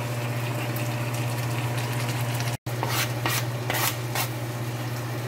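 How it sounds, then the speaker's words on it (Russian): Garlic and tomatoes for an okra dish fry in a pan with a continuous hiss over a low steady hum, with a brief dropout midway and a few louder bursts of sizzling near the end. "еще немножко обжариваем"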